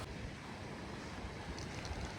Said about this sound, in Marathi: पाऊस वाढल्यामुळे ह्या लाटा बघा लाटांचा आता जो म्हणजे जोर आहे